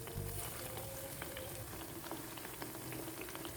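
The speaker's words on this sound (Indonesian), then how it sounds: "Setelah panas ini digoreng tempe tepungnya." Battered tempe frying in hot oil gives a dense, steady bubbling sizzle with small crackles throughout, close and continuous.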